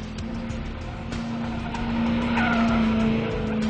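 A Shelby Super Snake muscle car circling a skid pad with its tires squealing in a steady, loud howl over the engine drone, the screech intensifying toward the end.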